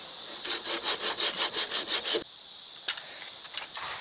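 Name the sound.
sanding body filler on a truck hood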